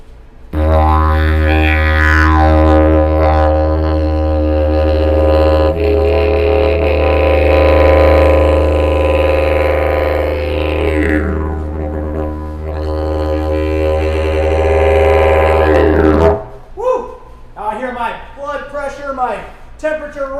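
A didgeridoo drones loud and steady for about sixteen seconds, a deep sustained tone with shifting overtones, then stops abruptly.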